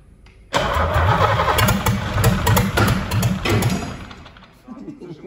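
A 1989 MAN engine fires up after its first major overhaul in 30 years, bursting into a loud, close, rattling run that settles toward idle, with voices talking over it.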